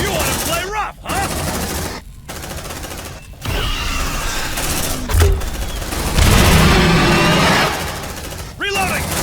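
Gunfire in the sci-fi game Aliens: Dark Descent, with sustained automatic bursts and fusillades, loud and close, broken by brief pauses, with shouted voices over the shooting.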